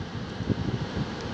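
Strong wind blows across a beach in a constant, blustery roar with low rumbling gusts pressing on the microphone, and no one speaks.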